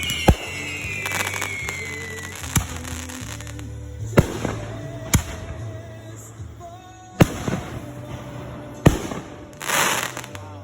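Fourth of July fireworks bursting in a string of sharp, loud bangs and crackles at irregular intervals, with a low steady rumble and whistling streaks between the blasts.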